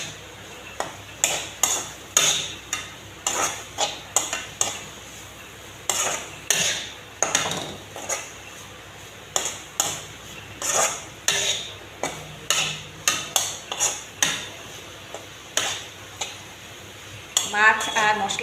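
Mourala fish being stirred with spices in a pan for chorchori, a steady run of sharp metallic scrapes and clinks of a spatula against the pan, repeated every second or so, close and fairly loud with a faint sizzle beneath.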